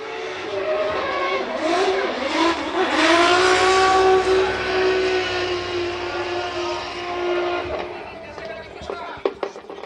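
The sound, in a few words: drift car on throttle at Fuji Speedway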